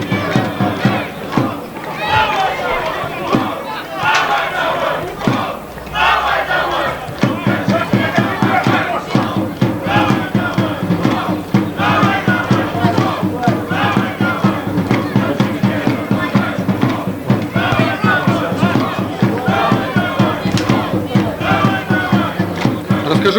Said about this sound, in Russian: Шумные болельщики Крумкачева поддерживают свою команду.